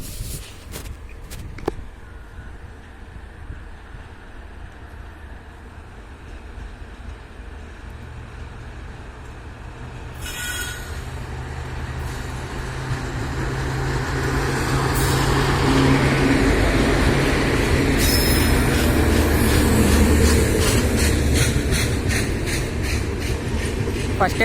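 A Narasapur–Bengaluru Holi special train at a station builds from a quiet rumble into a louder, sustained roar with rhythmic wheel clatter, while a person talks over it.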